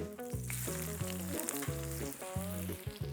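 Onion sizzling in a frying pan for fried eggs gives a steady, close crackle and hiss over rhythmic background music.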